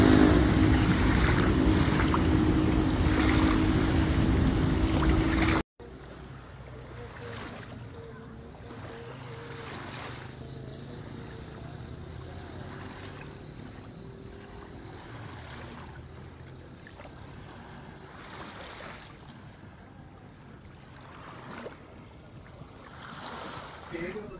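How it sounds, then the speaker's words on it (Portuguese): Water of Lagoa da Conceição lapping at the shore, starting with a loud rushing wash for several seconds, then settling into a softer, steady lapping with faint background voices. "esse barulhinho do mar é muito gostoso"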